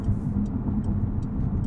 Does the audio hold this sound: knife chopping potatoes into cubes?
no